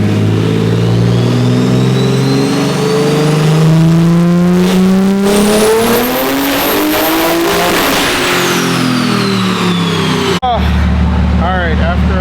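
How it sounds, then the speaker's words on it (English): A 1200 hp BMW M4 engine revs hard during a dyno pull, its loud note climbing steadily in pitch and then falling away before cutting off, with voices following. "So that was the final pull. We hit our goal of 1200 horsepower."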